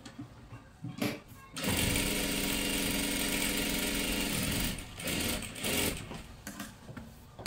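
A sewing machine stitches tucks on a dress in one fast, steady whirring run of about three seconds, with shorter bursts and quiet handling sounds before and after.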